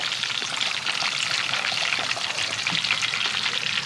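A tomatillo, tomato, onion and garlic sauce poured into hot oil sizzles and fries steadily, a dense continuous hiss at close range with no talk over it.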